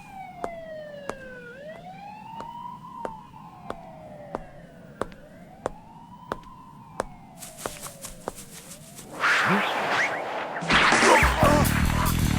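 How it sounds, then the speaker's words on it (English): Police car sirens wail in a distant urban area across a river, the rising and falling tone cycling steadily against a sharp, regular ticking, before louder broadband noise takes over near the end. "I can hear police sirens in the distance"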